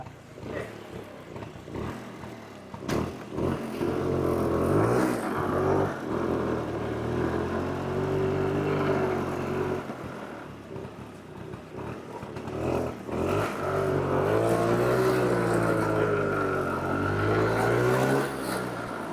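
An old vehicle being driven again after 15 years off the road, its engine revving and droning loudly up close in long rising and falling surges, with brief knocks between them.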